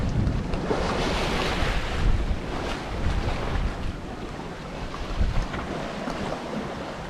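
Wind buffets an offshore sailboat under full headsail and mainsail in about eight knots of breeze, with waves rushing and slapping the hull close by in a loud, continuous wash.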